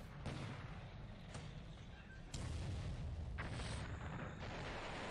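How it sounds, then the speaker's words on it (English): Torpedo hits detonate against an oiler in a Pacific naval war game, several heavy muffled booms arriving a second or so apart, each a broad burst over a constant low rumble. "that's three torpedo hits in an Oiler"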